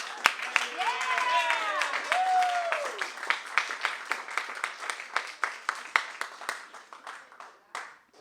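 An evening talk audience claps to welcome two speakers, a scattered but lively round of hand claps that carries on for several seconds, with faint talking and whistle-like tones over the start.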